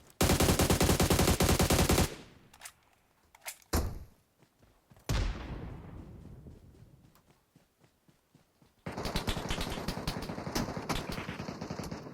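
Gunfire in PUBG Metro Royale: a loud sustained automatic burst opens, followed by a few sharp single shots and thuds, then another long rapid-fire stretch at the end.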